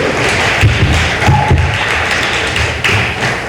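An audience applauds sponsors at a live event, with loud, close, dense clapping and a few heavier thumps and taps standing out. The clapping holds steady for a few seconds.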